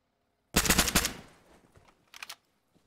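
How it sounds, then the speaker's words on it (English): A quick burst of gunfire in Arma 3, several rapid shots over about half a second, then a fading echo and a second, shorter burst a little later, with no talk. "Can hear the shots coming in."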